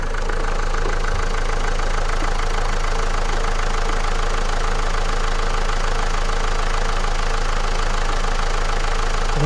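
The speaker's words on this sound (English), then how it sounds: "You can actually hear the motor sounding better." A Renault Clio dCi diesel engine idles after a cheap fix for stuck turbo vanes, a steady, close, even knocking hum with no talk.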